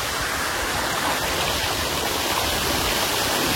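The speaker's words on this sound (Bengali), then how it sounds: "সুইমিং পুলের চারিদিকে ছোট ছোট ঝর্ণা আছে" Small fountains splash continuously around a swimming pool at a seaside resort, a dense steady rush of falling water, close and loud with no voices.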